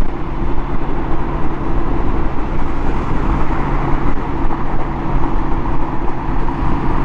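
Honda Goldwing motorcycle riding at night, a loud continuous engine drone and wind rush heard from the rider's position, steady throughout with no pauses.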